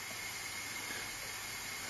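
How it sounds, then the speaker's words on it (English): A T-fal Clipso stainless steel pressure cooker vents steam in a constant, faint hiss, steady and unbroken. "In fact, we're wasting energy, it's just blowing off the steam."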